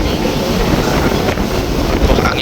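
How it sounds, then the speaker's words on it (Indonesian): Strong gusting wind buffets a handheld phone microphone at a construction site, a loud continuous rumbling roar that fills the clip with no clear talk. "Anginnya sangat deras sekali ya."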